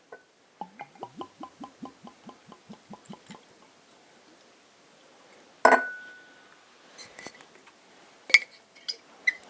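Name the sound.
pouring whisky into a glass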